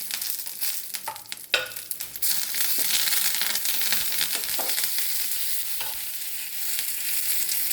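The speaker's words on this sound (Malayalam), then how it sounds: "അങ്ങനെ കടുക് പൊട്ടി കഴിഞ്ഞിട്ട് ഇതിലേക്ക് കറിവേപ്പില ഇട്ട് കൊടുക്കാം" Curry leaves dropped into hot oil with popping mustard seeds and dried red chillies, a few sharp crackles and stirring scrapes giving way to a loud, steady sizzle, close with no talk.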